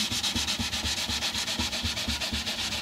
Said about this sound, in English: So as far as polishing frets go,